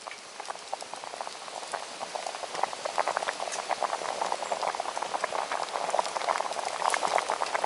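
A pot of pinto beans bubbles and pops at a rolling boil, a continuous crackling patter of small bursts close up, steady throughout.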